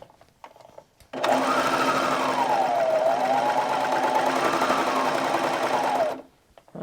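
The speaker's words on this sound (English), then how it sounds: "I've got several layers I'm going to be stitching, so I'm going to go ahead and just put 3 layers of denim here together to test that seam" A serger sewing machine stitches through three layers of denim in one steady, loud five-second run, its motor whirring evenly with a slight wavering pitch, starting and stopping abruptly amid quiet handling noise.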